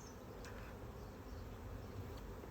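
Honey bees hum steadily around an open hive during a beekeeper's inspection, a soft, continuous buzz with occasional nearer bees passing close.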